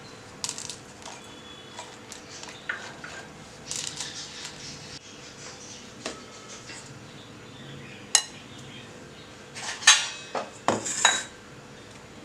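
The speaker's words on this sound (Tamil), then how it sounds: "இப்போ ஓரியோ பிஸ்கட் வந்து இது மாதிரி வந்து நம்ம உடைச்சு போட்டுக்கலாம்" Oreo biscuits with cream snapped by hand into melted chocolate in a home kitchen, a series of close, sharp cracks and crunchy snaps separated by quiet pauses, clustering more densely toward the end.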